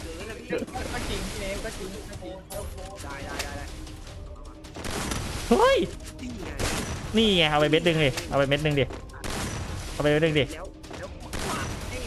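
Gunfire in the Free Fire video game, with sharp bursts of shots scattered across the stretch, mixed with game effects and excited talk.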